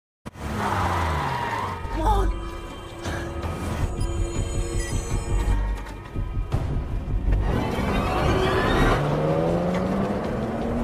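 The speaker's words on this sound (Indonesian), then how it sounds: "segera mengajak wanita itu untuk keluar dari sana dengan menggunakan mobil milik Dr. Donna" A car driving off in a film: engine revving and accelerating, tires squealing, with passing-by whooshes and rising and falling engine pitch, loud and close, mixed with scattered impacts and background score.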